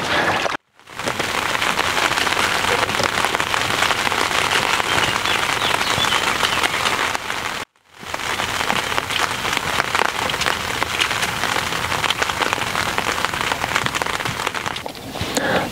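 Rain falling steadily outdoors at a carp fishing lake in Hungary, a dense even patter on surfaces, briefly cutting out twice.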